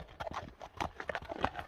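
A horse used for the ulak goat-pulling game clip-clops with quick, uneven hoof strikes on hard ground, fairly soft and close, with no talk over it.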